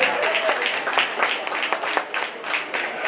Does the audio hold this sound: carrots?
no